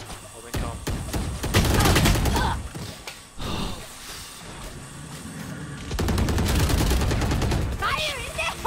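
Gunfire in the Valorant video game comes in rapid bursts of loud, close shots with sharp repeated cracks, spread through the clip between quieter gaps, with faint game sounds and some voices in the background.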